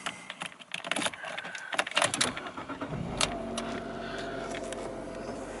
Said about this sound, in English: So let's get this engine started